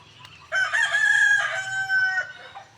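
A single loud crowing bird call rings out on a mountain, a drawn-out cry of about two seconds heard close and alone.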